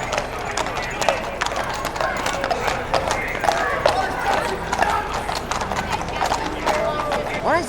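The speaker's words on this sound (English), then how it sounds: "the police have been using the horses" Police horses clip-clop on the paving of Trafalgar Square in London, a busy run of hoofbeats heard amid crowd noise and people talking.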